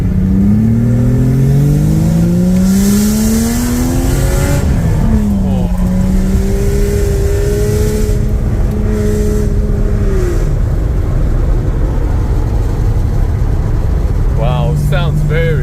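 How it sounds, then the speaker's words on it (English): A Porsche 911 964 RWB with its optional exhaust revs loudly, its engine pitch sweeping up and falling back in several long pulls before settling toward idle. Voices talk faintly in the background. "It has a optional exhaust that comes with the car."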